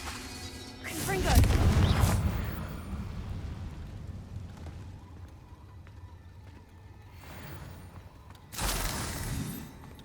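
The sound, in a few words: Confringo fire blasting spell explosions in Hogwarts Legacy video game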